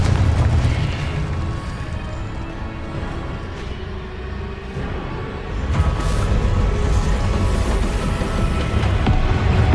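In the video game Hogwarts Legacy, a Confringo spell lets loose a loud, rumbling blast, followed by a sustained roar that swells again partway through, with no voices heard.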